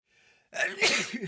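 A single person's sneeze, a short faint intake of breath followed by a sharp, close explosive burst that trails off quickly.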